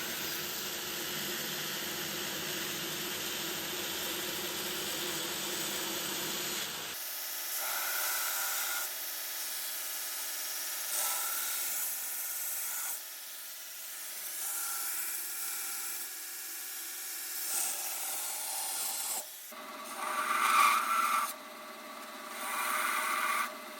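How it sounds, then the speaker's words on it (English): A belt grinder works the profile of a chef knife, a steady abrasive rubbing whine that shifts in pitch and pressure as the blade is pressed and lifted, moderately loud and continuous with brief pauses. "Now, over to the belt grinder, and we can get some profiling action down."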